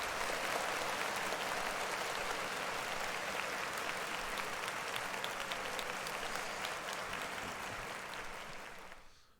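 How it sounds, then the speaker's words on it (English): Sustained, loud audience applause and clapping from a crowd at the Rolling Loud California 2023 rap festival, greeting Space Ghost Purrp, steady for about nine seconds before fading out at the end. "Clap it up for Space Ghost Perp."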